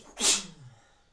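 A single close sneeze, one sharp explosive burst that trails off into a soft breath.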